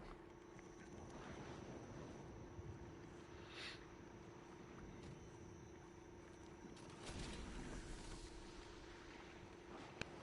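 A sailing ship at sea in the video game Skull and Bones, with a low, steady rush of wind and water under faint creaks and swells, quiet and continuous throughout.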